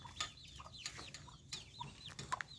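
Free-range chicks peep and cluck in a busy, irregular stream of short, high chirps, fairly close, with quiet background hum.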